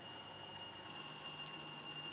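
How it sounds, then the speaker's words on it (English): An electronic buzzer at a Ghanaian secondary-school science and maths quiz contest sounds as a continuous high tone lasting the full two seconds, steady and moderately quiet, with no voices over it. "Let me hear your buzzer, Zion."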